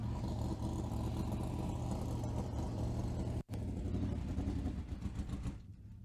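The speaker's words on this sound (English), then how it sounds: "the winner as he pulls up into victory lane right in front of the Cairns Speedway banner." A sprint car pulling into victory lane at Cairns Speedway during a night feature race, its engine a loud, steady rumbling drone that briefly cuts out for an instant and then carries on before easing off at the end.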